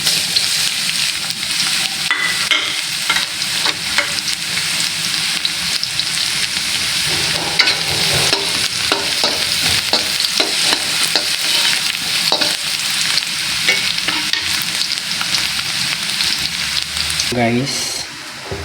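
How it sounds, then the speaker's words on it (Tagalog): Garlic sautéing in a hot pan for pancit canton, with a steady close sizzle and frying hiss, stirring scrapes throughout, and a brief voice near the end. "Isunod natin itong garlic."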